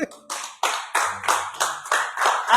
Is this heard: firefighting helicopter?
no